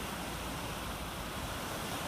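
Ocean surf washing onto a littered beach at Coatzacoalcos, a steady broad roar of waves with some wind, continuous and moderately distant, with no voices.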